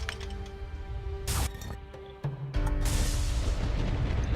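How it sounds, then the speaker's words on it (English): Thunder and heavy booms roll across a noisy island in the game Risen 3: Titan Lords, with a sharp burst near the middle and a loud sustained rumble carrying through the second half, no voices. "This is a very noisy island. A lot of thunder. A lot of booms."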